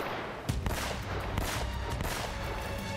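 Gunfire from the video game Uncharted: Drake's Fortune, a dense run of sharp shots and rattling bursts over a constant busy game background, loud and close throughout.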